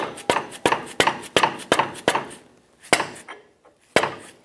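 A hammer striking a punch to drive out a bolt during an air spring replacement on a 2007-2017 Ford Expedition, a run of sharp, loud metallic blows in a steady rhythm, then a short pause and two more spaced hits.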